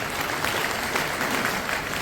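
An audience at a police training centre in Gurgaon claps steadily, a dense continuous wash of applause with no talking over it.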